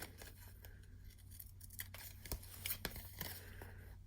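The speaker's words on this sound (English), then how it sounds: "I'm going to cut all the excess." Several quick, soft snips of scissors trimming excess paper for a handmade card, irregular cuts over a quiet room background.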